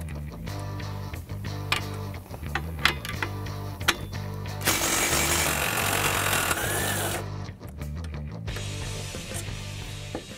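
Power tool whirring and rattling in repeated bursts while removing brake caliper bolts on a 2015-2023 Mustang, a steady mechanical buzz with rhythmic pulses and a louder, harsher stretch midway, no voices.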